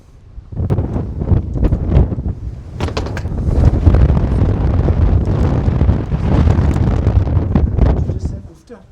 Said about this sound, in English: Yeah, a little breezy.